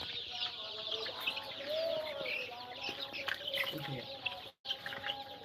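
Poultry birds in a brooding setup chirp and cluck continuously in a busy flock chorus, with a brief dropout near the end.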